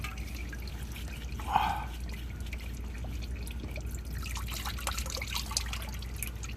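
Motor oil draining from the engine of a Chevrolet Corvette C7 Z51 during an oil change, a steady faint trickle and drip into a pan with a low background hum.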